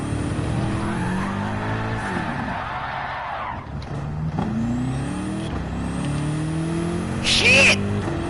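A race car in a driving video game, engine revving through gear changes with rising and falling pitch and tires squealing and skidding, loud and continuous, with a voice shouting over it.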